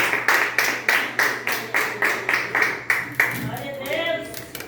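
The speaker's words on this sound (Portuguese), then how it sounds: "puder aplaudir o Senhor" Congregation at a church service clapping in unison, a steady rhythmic beat of about three claps per second for several seconds before it breaks into scattered applause and a voice.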